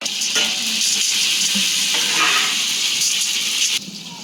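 Bay leaves frying in hot oil in a home kitchen pan, a steady loud sizzle and hiss that carries on throughout, with small crackles and pops.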